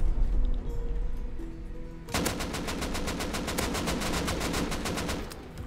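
Automatic gunfire rattles in the survival game Rust, a sudden rapid burst of evenly spaced shots that keeps hammering for several seconds after a stretch of quieter game ambience.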